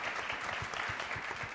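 An audience at a food panel discussion applauds chef Daniel Humm with a short burst of even, moderately loud clapping that carries a faint murmur of voices.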